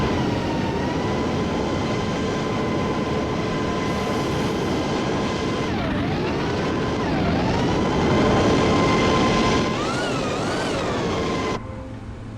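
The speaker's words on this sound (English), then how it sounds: "Airplane noises." Boeing 777 jet engines in a flight simulator, a steady loud turbine roar with a high whine that dips and rises in pitch around the sixth and tenth seconds before the noise drops off abruptly near the end.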